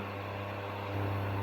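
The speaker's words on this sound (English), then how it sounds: "Like a kind of electrical buzzing sound, as well as the fan." An Aldi Ambiano single induction hob gives off a steady low electrical hum and buzz with a constant fan whir, close and unchanging, growing slightly stronger midway.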